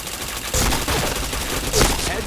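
Gunfire in a video game, loud bursts of shots with a sharp crack near the start and another strong blast late, set against a steady noisy game background.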